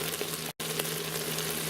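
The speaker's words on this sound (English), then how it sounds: "we're browning up our brats the rest of the way my family likes" Beer bratwursts browning in an Instant Pot with sautéed onions, giving a steady, close sizzle and fry that carries on evenly apart from one brief cut, with no speech.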